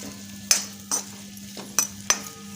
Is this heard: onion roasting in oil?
yes